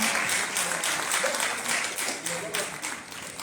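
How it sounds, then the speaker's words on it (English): Audience applause at a Bronx summer safety summit held at Lincoln Hospital, a steady wash of many hands clapping that fades slightly toward the end, with faint voices mixed in. "Can we give them one more big round of applause?"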